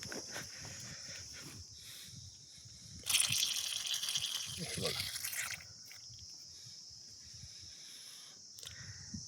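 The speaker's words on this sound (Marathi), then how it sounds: "हे ठिबक चालू आहे" Drip irrigation line running across raised beds in a turmeric field gives a steady hissing rush of water that swells for a few seconds, with faint outdoor background noise.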